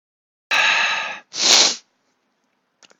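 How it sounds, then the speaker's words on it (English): Two loud, close sneezes from one person in quick succession, each a sharp burst followed by a short gap, with only faint breathy sounds trailing after. "now that I'm done with those sneezes"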